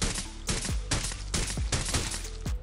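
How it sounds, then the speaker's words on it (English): Rapid bursts of gunfire in the Rules of Survival battle royale game, several sharp shots in quick succession with brief gaps, loud and close, no talking. "So right here, I see the guy, and I shoot him."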